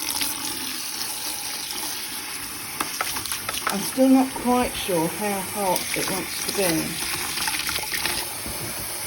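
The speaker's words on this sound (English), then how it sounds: "I'm going to be putting some water in here." Tap water runs into a basin for washing, a steady splashing hiss under a woman's speech that carries through the middle of the stretch.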